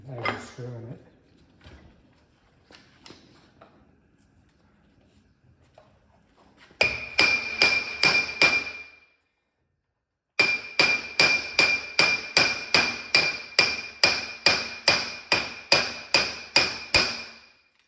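A hammer taps on a Gov-lock differential part from a 14-bolt axle during repair: a short burst of sharp metallic strikes, a pause, then a long run of evenly spaced ringing blows, with quiet talk at the start.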